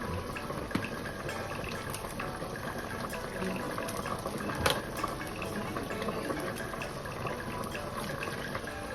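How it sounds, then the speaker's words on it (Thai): A pot of Thai mixed vegetable soup, tom chap chai, simmers with a constant watery bubbling and gurgle, close and moderately loud, with a few sharper clinks over it. "ก็เคี่ยวต่อไปอีกสัก20 นาทีแล้วค่อยมาดูกันใหม่"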